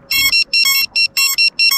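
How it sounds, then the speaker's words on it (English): An FPV drone's lost-model buzzer sounds a rapid series of loud, shrill electronic beeps in short irregular bursts, close and alone without any talking. "It's got a buzzer. The buzzer's also got a battery on it"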